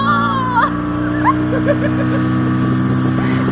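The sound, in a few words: speedboat engine starting and running on a dam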